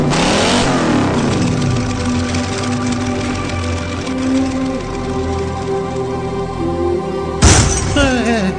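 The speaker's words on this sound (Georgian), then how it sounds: "დაგოქე ტრაქტორი" A tractor engine cranks over with a sharp burst, then settles into a loud, steady mechanical drone with rising and falling revs, ending in another abrupt clattering burst near the end.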